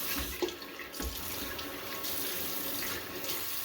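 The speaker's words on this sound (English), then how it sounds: "there shouldn't be a lot of running water in the video" Tap water runs steadily into a bathroom sink while a man wets his face before lathering for a wet shave. The flow is close and continuous, with a few splashes near the start and no talking.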